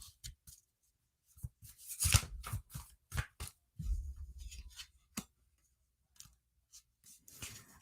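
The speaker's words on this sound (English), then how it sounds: "And the Aries thinks I better shuffle better." Tarot cards being shuffled by hand, soft close riffles and slaps in short irregular bursts separated by quiet gaps, faint and near.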